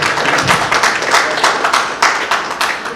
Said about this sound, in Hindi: कृपया ताली जरूर बजाएं।